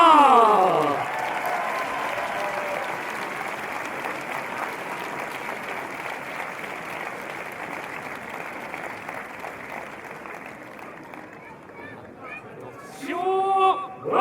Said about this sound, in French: Attention, voilà, on l'applaudit bien fort.